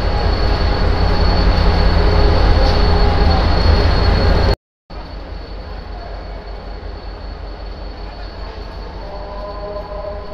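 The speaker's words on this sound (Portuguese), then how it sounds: "Estou mostrando para vocês que os trens aqui, a maior parte são assim, horrível, trem do horror, né?" A crowded passenger train in Alexandria, Egypt rumbles steadily along with dense, loud rail noise throughout, broken by a brief cut near the middle.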